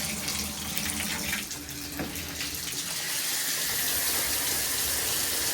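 A hotel room shower runs at full pressure, giving a steady, close, continuous rush and hiss of spraying water that holds unbroken for several seconds with no talking.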